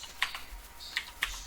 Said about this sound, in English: I'm going to type in TechStorms